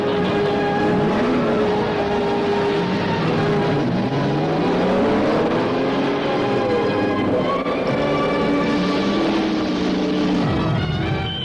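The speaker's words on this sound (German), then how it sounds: "Autobots, startet eure Motoren." Several loud car engines rev and roar continuously in a Transformers G1 cartoon, pitch rising and falling with acceleration, no voices.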